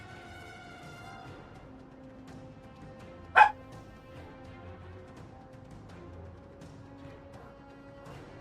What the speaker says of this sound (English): Hold on, Sammy's barking.